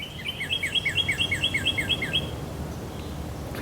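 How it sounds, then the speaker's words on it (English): Outdoor birdsong at a lake in early March: a bird repeats a quick, bright chirping trill about a dozen times in a fast, even rhythm, then stops, heard at moderate distance over faint low background noise. "And we're being serenaded by some beautiful birds."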